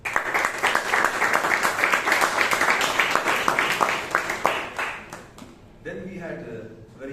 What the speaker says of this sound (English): A big round of applause to the evaluator and as well as the speaker